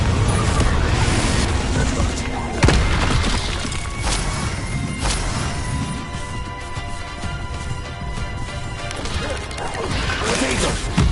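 Confringo explosive spell blasts in Hogwarts Legacy gameplay, a loud chaotic run of crashing impacts and bursts, several sharp hits standing out over a dense, continuous battle din.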